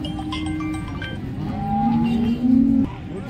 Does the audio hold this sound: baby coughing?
no